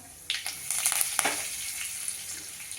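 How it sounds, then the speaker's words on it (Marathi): Mustard seeds crackle and pop in hot oil in a home kitchen pan, giving a fizzy sizzle with scattered sharp pops that come closer together in the first second and a half, then thin into a steady, softer sputter. "मोहरी तडतडते"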